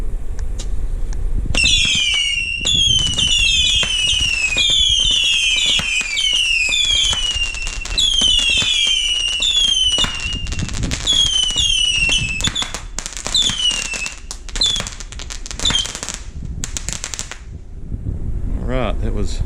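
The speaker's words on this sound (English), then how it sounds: "let's start out with the 50-shot Saturn missile" A 50-shot Saturn missile fireworks cake firing: rapid whistling launches with sharp cracking pops in dense repeated volleys for about fifteen seconds, close and loud, then tapering off.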